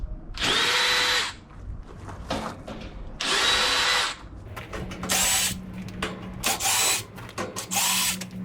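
A power drill with a 5/16 nut driver whirs in several short loud bursts, spinning up and winding down with brief pauses and clicks between runs, close by, driving nuts on an AC unit.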